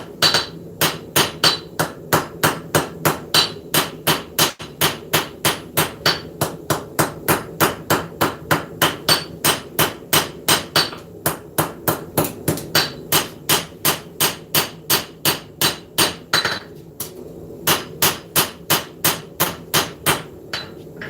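A hammer strikes a knife blade on the anvil in a steady rhythm, about two blows a second for around twenty seconds, with one short pause near the end. The ringing, metallic blows sound close and loud, and no one talks.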